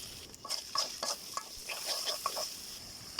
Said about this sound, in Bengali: এই মশলাগুলো একটুখানি কষিয়ে নেবো সুন্দর করে।